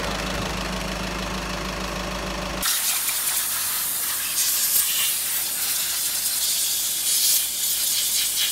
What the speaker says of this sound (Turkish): En son bir spreyle temizlik işlemlerimiz var.